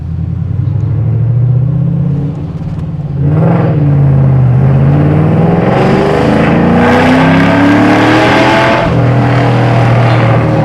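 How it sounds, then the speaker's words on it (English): A loud Mustang GT V8 engine idles with a deep burble while stationary, then is revved hard several times, rising and falling in pitch, close and aggressive. "Is there anything better than just stupid loud V8s not moving?"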